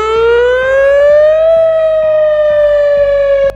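A VS 2000 electronic siren wails loudly and continuously, its tone rising slowly and then holding steady with a strong harmonic ring and a faint rhythmic pulsing underneath, alone with no voices.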